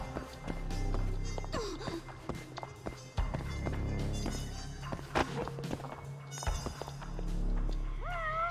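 A cat meows in the Judgment video game amid busy in-game street ambience, footsteps and music, with rising meow-like tones near the end.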